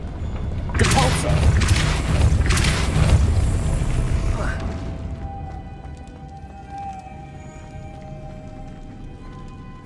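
Depulso spell cast in Hogwarts Legacy, a heavy rumbling blast with booming impacts and whooshing bursts that fade out after a few seconds, leaving a faint tonal hum.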